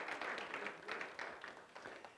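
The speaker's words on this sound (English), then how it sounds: "Give yourself a round of applause" A college audience applauds at a presidential report, faint, distant clapping in uneven bursts that tapers off over a couple of seconds.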